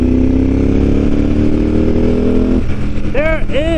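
Ducati 748R motorcycle engine cruising near 4,000 RPM, a loud steady drone that shifts near the end into rising throttle with a couple of quick upward revving sweeps.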